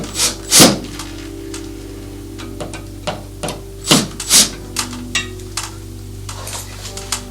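Irregular scraping and rubbing strokes, with soft knocks and short rasping turns, from screws being tightened by hand on metal drapery rod hardware, close by over a low steady hum.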